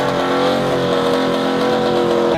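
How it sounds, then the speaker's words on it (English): A car doing a burnout, engine roaring hard at high revs in a loud, sustained blast that cuts off abruptly at the end, with no one talking. "That was a pretty sick burnout."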